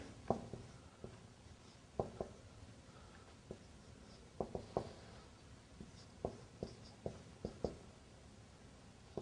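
A pen scratches across paper in short, intermittent strokes, quiet and close, with soft ticks and brief pauses between bursts of writing and no talking.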